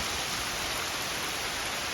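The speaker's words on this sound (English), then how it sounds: "Still raining." Steady rain falling outdoors as dusk comes on, a dense, even hiss that stays constant throughout with no voices or other sounds.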